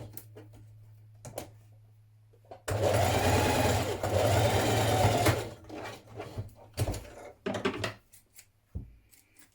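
A sewing machine stitching a blouse seam, a burst of rapid, even stitching lasting a few seconds amid quieter handling clicks and brief pauses, with speech around it.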